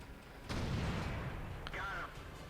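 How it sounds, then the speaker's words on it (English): A single heavy tank gun shot in World of Tanks, fired from an ISU-152 tank destroyer: a sharp boom that swells into a long rolling rumble, then a brief metallic clank and whine of reloading, with faint background noise. "That was such a cheap shot."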